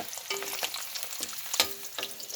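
Eggs fry in a pan with a continuous sizzle, punctuated by several sharp scraping strokes of a spatula.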